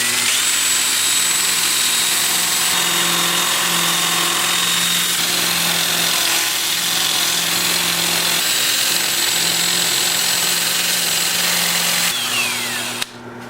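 Power sanding a turned wooden winged bowl, a steady high motor whine with a buzzing hum and a rasping abrasive scrub that shifts in pitch as the sander moves across the wood, close and loud, ending in a sharp click.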